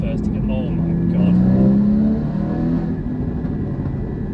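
Porsche Cayman GT4 (981) in sport mode with the exhaust button on, its engine revving hard with a short exhaust burst, loud and close and steady through the clip, with a voice talking over it.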